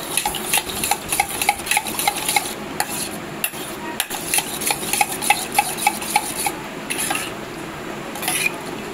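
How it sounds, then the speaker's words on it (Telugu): Soya chunk cutlet mixture being stirred with pepper powder and salt in a bowl, a spoon scraping and clinking against the dish in quick repeated strokes, close and clear, with no voices. "మిక్స్ చేసుకుంటున్నాం బాగా."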